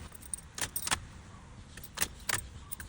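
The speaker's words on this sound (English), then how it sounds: "I'll just turn the key on and off a couple times to prime the fuel lines" An ignition key on a Ford Econoline with a newly replaced fuel pump is turned on and off twice, each turn giving a close, faint jingle of the key ring with clicks in a quiet setting.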